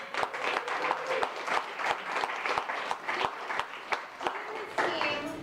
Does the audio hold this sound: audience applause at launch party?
yes